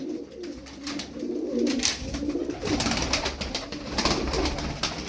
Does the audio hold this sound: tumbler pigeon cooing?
yes